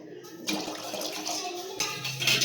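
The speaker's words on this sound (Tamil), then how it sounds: "ஒரு 1/2 கப் அளவுக்கு தண்ணி ஊற்றிக்கோங்க" Water is poured into a pot to make sugar syrup for gulab jamun, a splashing rush that starts after a brief quiet moment and continues steadily, growing slightly louder at the end.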